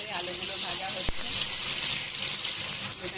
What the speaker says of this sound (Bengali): এখানে দেখো আলুগুলো ভাজছি